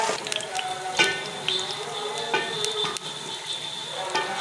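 Sweet pooray batter cooking on a low flame gives a soft, steady sizzle, broken by a few sharp clicks and taps of a utensil against the pan, close up and with no one talking.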